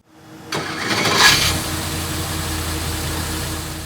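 A built 427 small-block V8 on an engine dyno, with Holley Hyperspark ignition, carb hat and blower drive belt removed, cranks and fires about half a second in, surges loudly, then settles into a steady, rough, loud idle.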